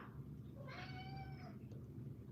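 A pet cat meows at a door, one drawn-out, wavering meow in the middle of a quiet room with a steady low hum underneath.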